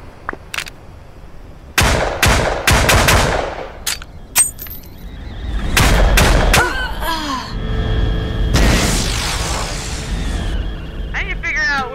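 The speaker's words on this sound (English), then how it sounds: "That's a flare gun." A flare gun fires in a VR video game, with several loud sharp shots in quick succession followed by whooshing, crackling bursts, while people talk in between.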